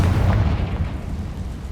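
A fire spell detonates in Hogwarts Legacy with a loud close boom, a deep burst that rumbles and fades over about a second, with no voices.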